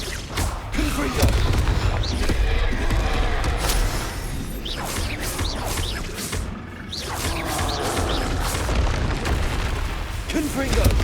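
Repeated magical spell blasts from the Hogwarts Legacy video game on PS5, a dense run of loud booming bursts over a continuous rumbling battle din with scattered crackles, recurring every second or two through the whole stretch.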